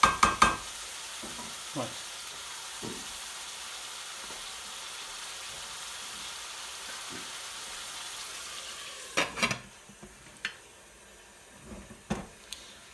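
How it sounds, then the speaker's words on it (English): Beef naga curry sizzles in a hot pan as a spoon stirs it, with a few scraping knocks early on and a steady frying hiss underneath. A clatter of louder bumps comes near the end, and a voice speaks briefly. "give it one final mix for now"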